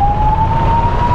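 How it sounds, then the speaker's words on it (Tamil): An ambulance siren sounds in traffic on a road, a loud, sustained tone that rises slowly in pitch over a low rumble of vehicles, close and dominant. "இந்த போகுது பாருங்கள் ஆம்புலன்ஸ்."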